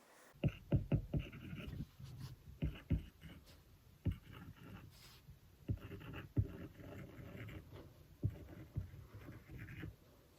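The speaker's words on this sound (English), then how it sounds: "a paper-like screen protector. And here are some noises with that because it sounds really nice." Close, quiet scratching and tapping of a stylus writing on a tablet with a paper-like screen protector, in short irregular strokes with soft pauses.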